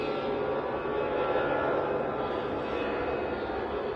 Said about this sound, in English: It's an A320.